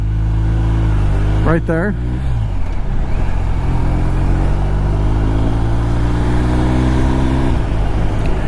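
A BMW R1250 RT motorcycle engine runs steadily throughout, pulling up through the gears with rising and falling drone bands as shifts occur, heard close with wind noise and a brief spoken voice over it.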